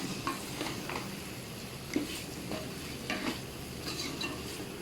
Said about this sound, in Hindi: सबसे पहले आलू डाल दें और आलू को मिक्स कर लें।